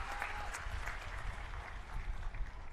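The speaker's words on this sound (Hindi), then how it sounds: "एक बार जोरदार ताली बजा दीजिए" Audience applause at an Aam Aadmi Party political rally in Gujarat, a steady wash of many hands clapping, moderately distant and fairly even in loudness throughout.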